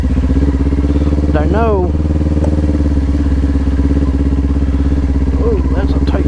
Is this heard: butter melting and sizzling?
no